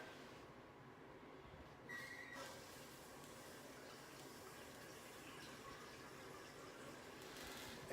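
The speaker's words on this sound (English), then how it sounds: "turn on the water" Water rushes steadily into a newly installed toilet tank, a soft, continuous hiss that holds at a low, even level throughout.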